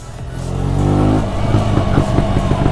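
A KTM Duke 125 motorcycle engine roars loud and close while riding on wet roads near a village, swelling in pitch then holding a steady drone with wind rush.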